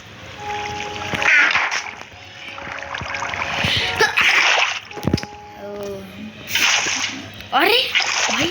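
Water is poured in a video game, making short splashing and sloshing bursts that recur several times under frequent, excited talking.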